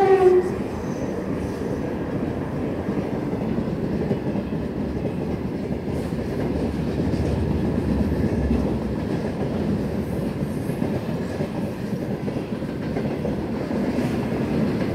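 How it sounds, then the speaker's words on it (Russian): A 2ES6 electric locomotive hauls a train past at close range, a loud, continuous rumble with rhythmic wheel clatter that holds steady for the whole stretch, with no voices over it. "Поезд."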